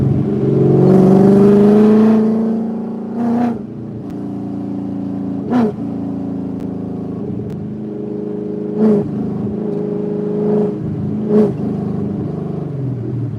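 Coyote-swapped Ford Cobra with a 3-inch exhaust running on E85 revs hard, one long climbing pull followed by several sharp throttle blips over a steady rumbling idle, close and loud.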